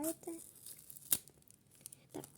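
A quick tearing rip of a plastic packet, with light crinkling before and after and a faint voice in the background.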